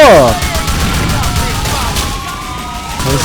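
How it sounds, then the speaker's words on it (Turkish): Rapid bursts of gunfire in GTA 6 crackle over a busy electronic background, with a rising tone at the start and a loud burst near the end. "Üstten mi bir yerden bir silah sesi geliyor ne?"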